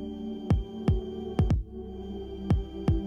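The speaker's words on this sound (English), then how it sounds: "Or you can even share something as personal as your own heartbeat" A heartbeat shared through an Apple Watch, heard as three clear double thumps, each lub-dub pair sounding close and loud over a soft steady hum, with no talking.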